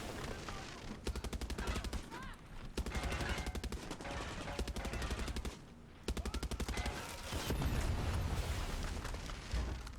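Homing fireworks weapon firing at a tank in a video game, rapid streams of popping, crackling shots in several bursts with booming impacts, fairly faint overall.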